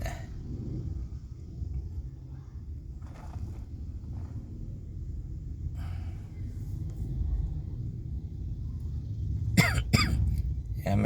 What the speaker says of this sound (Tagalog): medyo ubo-ubo pa rin tayo konting-konti pa sundot-sundot lang yan